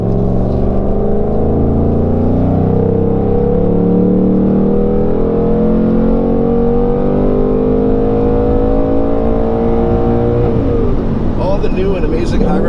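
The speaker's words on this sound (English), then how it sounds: "the new and amazing high-revving nature of this generation of Mustang is alive and intact" A Ford Mustang GT Premium engine revs hard and close, its pitch climbing steadily in a loud sustained pull before dropping off near the end.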